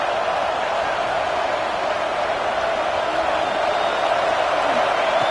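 A fired-up football stadium crowd in Michigan roars in a steady, dense wall of cheering noise that holds even and loud from start to finish.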